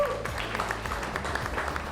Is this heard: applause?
yes